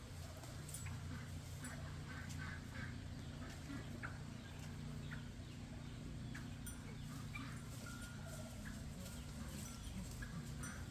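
Chickens cluck and chatter softly in the distance, with scattered calls over a steady background hum.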